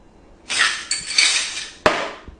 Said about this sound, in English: you just gotta drain it into your glass